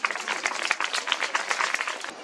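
Schoolchildren applaud at a school event in Dakar before a roll call of sixth-grade pupils, a dense, steady patter of many hands clapping close by, holding fairly even for the whole stretch.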